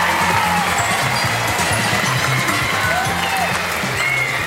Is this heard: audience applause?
yes